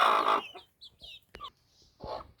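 Free-range country hens with healthy chicks clucking close by in a home yard, a loud opening cackle followed by several short, scattered clucks and peeps, and one last clear cluck near the end, with no talk.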